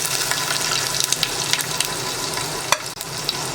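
Fenugreek seeds and garlic fry in hot oil for a Maharashtrian kadhi tempering, giving a steady, loud sizzle with crackling pops and a few sharper stir or clink sounds near the end.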